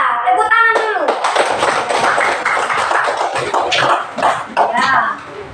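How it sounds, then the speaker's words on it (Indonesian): Schoolchildren in a classroom clapping their hands in a brisk, loud burst of scattered claps lasting several seconds, with children's voices mixed in and chatter around it. "tepuk tangan dulu"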